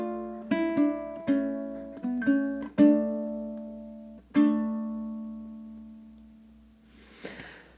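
A ukulele plays the second ending of Greensleeves as a short run of plucked notes, the last note ringing out at length before a brief rustle of handling noise.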